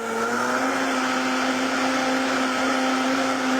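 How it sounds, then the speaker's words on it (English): A kitchen blender whirs loudly and steadily as it purees banana curry until smooth, a constant high-pitched motor drone with no speech. "We're gonna blend this up."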